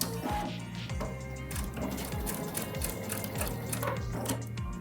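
A sewing machine runs in repeated short bursts of rhythmic needle clatter while stitching quilt pieces for a Forget Me Knot quilt, close and fairly loud throughout.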